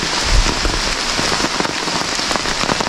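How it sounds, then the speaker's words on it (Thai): Heavy rain falls in a forest during a storm, a loud dense patter of drops hitting leaves and surfaces close by, continuous and unbroken. "โอ้โหฝนตกหนักมากเลยทุกคนดูเม็ดฝนนะที่หล่นลงมา"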